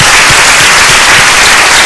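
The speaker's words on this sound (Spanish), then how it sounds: "Dale un fuerte aplauso." Loud applause from a church congregation, dense continuous clapping filling the whole short stretch with no pauses.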